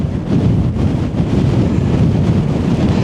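Strong wind buffets the microphone on the Carneddau mountain summit, a loud, continuous low roar with gusty swells throughout and no voices.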